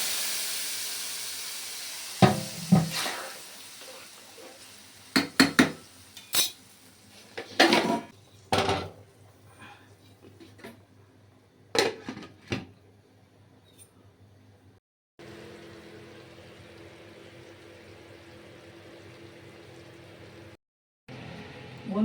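Fried bori go into a pan of mixed vegetable curry with sharp metallic clinks and scrapes of a spoon against the pan, followed by a steady sizzling hiss as the lentil dumplings settle into the hot curry.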